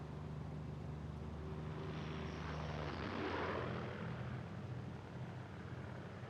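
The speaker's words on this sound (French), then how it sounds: "Je suis le premier journaliste étranger à être autorisé à voler dans l'avion privé d'Adolf Hitler." Adolf Hitler's private plane with its engine droning steadily from the cabin at a moderate level, a brief swell in the middle, and no voices.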